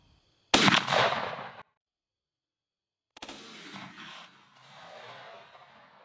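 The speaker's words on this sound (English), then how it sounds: "Let's shoot that target." Two loud 12-gauge shotgun blasts from a Franchi Affinity 3 firing Nitro Steel number 4 shot at a patterning target on an outdoor range, each a sharp crack with a short decaying tail, separated by silence.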